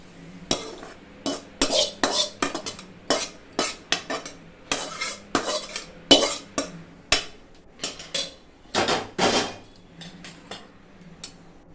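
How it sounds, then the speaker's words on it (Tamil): Ragi adai batter being mixed in a pan, with a spoon scraping and clinking against the metal in a steady series of sharp, close strokes that pause briefly, under a faint background hiss. "இந்த பாருமா வந்து முதல்ல கலந்துருங்க கலந்துட்டு சூடாக இருப்பான் பார்த்து கலந்து"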